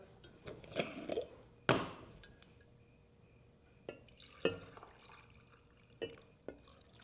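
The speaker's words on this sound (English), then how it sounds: "Let me get these topped off with my filtered water." Filtered water is poured into glass jars of fermenting beets in short separate bursts, with one louder splash early on and faint clinks between quiet pauses.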